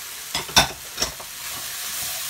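Flaked almonds and cashews rasp and scrape as they are stirred in a hot pan, a few sharp stirring strokes over a soft, steady sizzle.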